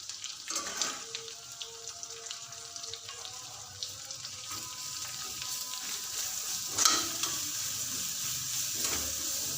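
Garlic ginger paste and ground masala frying in a pan, a soft continuous sizzle with occasional stirring clinks and scrapes, fairly faint.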